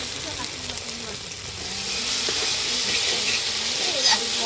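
Masala spices fry in oil in a home kitchen, a hissing sizzle that swells louder partway through, with faint scraping from stirring and brief murmurs of voices in the background.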